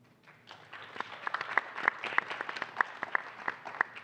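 Audience at a venture capital panel event applauding, a steady moderate patter of many hands with a few sharper individual claps, no talk over it.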